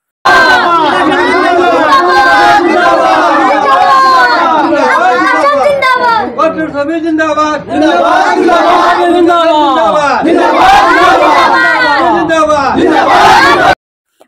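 A loud crowd packs a panchayat election office in Laharighat, Morigaon, during the election campaign, with many voices chattering and shouting over one another almost without pause and a brief lull midway.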